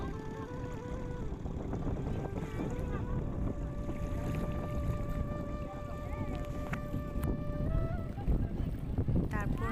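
A boat ride across Hasaigari beel, a lake in Naogaon, gives a steady, continuous drone with a few sustained tonal hums above water and wind noise, running unbroken throughout.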